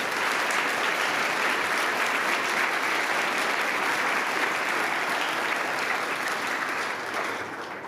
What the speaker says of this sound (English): Boris, get up and enjoy a round of applause